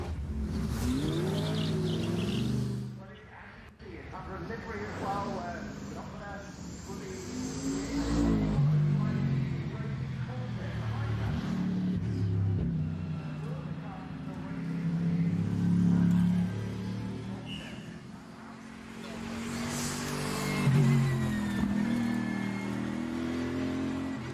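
A V8 race car engine at the Goodwood Festival of Speed revs hard through repeated rising and falling sweeps, loud and close, with tire noise and crowd ambience around it.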